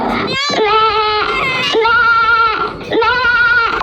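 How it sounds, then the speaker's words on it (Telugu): A goat bleats three times in a row, loud and close, each call a long wavering cry with short gaps between. "గోట్ అంటే మేక"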